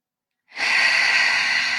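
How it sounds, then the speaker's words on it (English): A single deep breath drawn in slowly during a guided meditation, a soft, close, airy inhale starting after a moment of silence and holding steady to the end. "And take a nice deep breath in"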